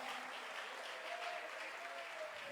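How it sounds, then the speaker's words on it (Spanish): Church congregation clapping in praise during a sermon, a soft, even wash of many hands heard from some distance, with a faint tonal hum running underneath. "Dele palmas de alabanza, dele palmas de"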